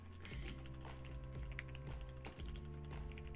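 Rapid computer keyboard typing from a gamer's setup, dense clattering keystrokes running steadily throughout over a constant low hum of game or room noise.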